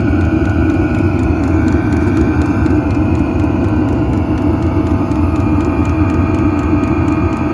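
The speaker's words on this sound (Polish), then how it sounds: "Oczywiście cykanie pompeczki." Webasto diesel air heater running inside a camper, a steady low blower roar and exhaust drone with the fuel pump's faint regular ticking pulsing through it, continuous and close.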